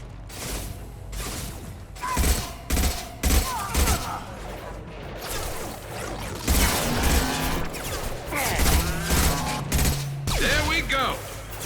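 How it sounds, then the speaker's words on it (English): Gunfire in Mass Effect 2 combat: repeated loud, sharp shots in irregular clusters with mechanical clicks and weapon whirs between them, and a voice speaks over the action. "Firing a high-impact shot."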